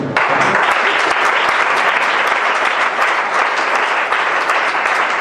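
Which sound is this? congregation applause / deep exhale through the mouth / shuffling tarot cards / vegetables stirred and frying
congregation applause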